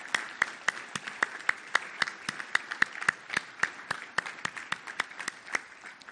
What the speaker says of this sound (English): let's show our appreciation to them and to the Lord with our applause